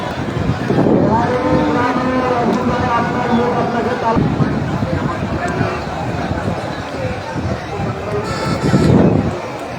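Cattle low at a busy Eid al-Adha sacrificial cattle market in Kasba, Brahmanbaria, with drawn-out moos rising over a constant crowd murmur and voices talking throughout.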